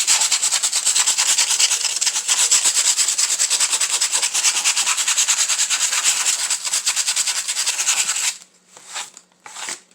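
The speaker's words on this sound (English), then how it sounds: "Just sand it down to where it's smooth now" Steady, close, rough sanding of a Dollar Tree craft piece, continuous rapid rubbing strokes for most of the stretch, then a few short separate passes at the end, with no voices.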